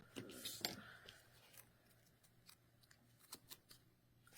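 Scissors snip off yarn ends on a crocheted Christmas ornament, a few faint, quick cuts near the start followed by scattered small clicks and rustles in a quiet room.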